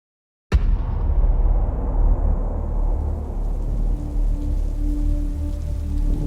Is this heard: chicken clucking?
no